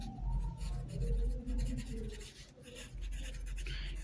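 A math problem is written out by hand, giving faint, continuous scratchy strokes of a pen or marker for about four seconds, quiet and close with no talking.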